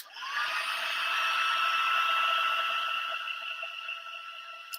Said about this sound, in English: I tend not to waft my heat gun around too much and just wait for it to go and then gently move it along.